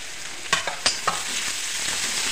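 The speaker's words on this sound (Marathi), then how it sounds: "आता आपण कांदा चांगला भाजून घेऊया" Chopped onion frying in a pan and being stirred, with a few sharp scraping strokes early on over a continuous soft sizzle, no talk.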